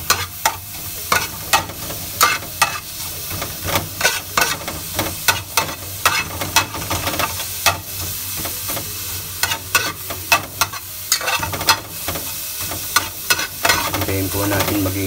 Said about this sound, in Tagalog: po natin ilagay ang onion o sibuyas